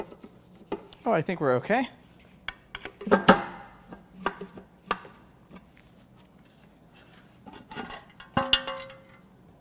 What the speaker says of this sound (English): Let's see what happens when I start prying on it.